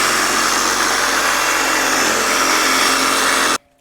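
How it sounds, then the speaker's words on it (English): A Sawzall reciprocating saw cuts through a metal wall panel on a 1956 International COE hot rod, giving a loud, steady, rasping buzz close by that runs without pause for about three and a half seconds, then stops abruptly. "I'm gonna cut this with the Sawzall so I don't have to go hacking through this extra wall"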